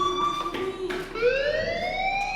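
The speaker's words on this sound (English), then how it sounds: "do you hear that fire alarm?" Fire alarm in the video game Life is Strange, a loud sustained electronic wail whose pitch rises and falls and then sweeps upward, with no talk.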